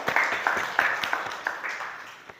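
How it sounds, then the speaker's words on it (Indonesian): A short burst of scattered handclaps from a small group, uneven and fading out over a couple of seconds. "Tepuk tangan buat Unik ya."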